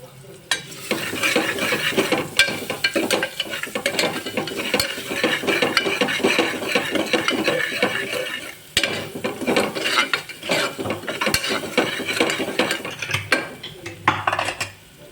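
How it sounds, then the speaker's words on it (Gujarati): Onions stirred into a Kathiyawadi masala khichdi tempering in a pot: frequent close clinks and scrapes of a spoon against metal over a continuous sizzle, busy and loud with brief pauses. "હવે આપણે બધું મિક્સ કરી લેશું"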